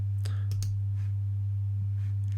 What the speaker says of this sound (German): Ich kann nun aber auf einzelne Blöcke klicken, indem ich auf den Balken klicke